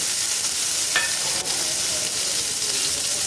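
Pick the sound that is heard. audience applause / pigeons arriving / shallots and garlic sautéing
shallots and garlic sautéing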